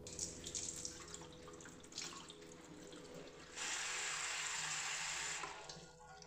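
Water is poured over washed urad dal for soaking, a steady soft running-water hiss that grows fuller partway through, fairly faint and with no talk.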